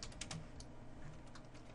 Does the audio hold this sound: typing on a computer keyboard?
yes